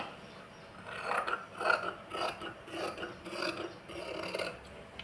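Scissors cut through cloth for a cutwork blouse neckline, trimming the inner fabric in a close, rhythmic series of rasping snips with no talking.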